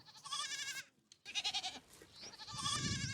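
Goat bleats, thin and drought-weakened livestock in a dry season: several wavering, nasal calls, one after another with a short gap between, close and fairly loud.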